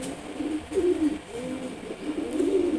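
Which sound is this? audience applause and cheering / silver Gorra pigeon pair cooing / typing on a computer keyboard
silver Gorra pigeon pair cooing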